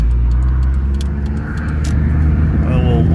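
A Honda CRX track car accelerates in first gear, its engine a loud low rumble close inside the cabin that rises steadily, with a voice speaking partly over it.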